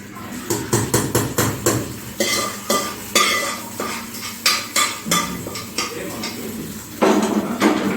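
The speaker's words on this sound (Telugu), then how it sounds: "ఈ పొంగల్ ఇప్పుడు నార్మల్ గిన్నెలోకి షిఫ్ట్ చేసుకుంటా" Pongal scraped and spooned from a cooking pot into a plain metal bowl: a steady run of sharp metallic scrapes and clinks, close and loud, in quick rhythmic strokes with a short pause near the end.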